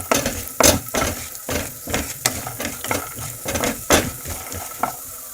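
Urad dal, chana dal and peanuts crackle and sizzle in hot oil in a pan, with steady frying hiss broken by sharp pops and the scrape of stirring against the metal.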